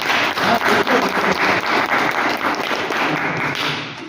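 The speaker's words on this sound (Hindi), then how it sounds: "तो ताली कौन बजाएगा सर?" A seminar audience claps together at a network-marketing plan presentation, steady dense applause filling the whole span and easing slightly toward the end.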